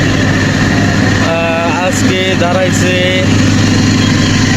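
A Bangladesh Railway train engine stands at a level crossing near Sripur, its low steady diesel rumble droning close and loud while someone talks over it.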